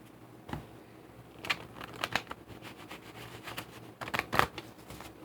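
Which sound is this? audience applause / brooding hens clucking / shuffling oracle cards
shuffling oracle cards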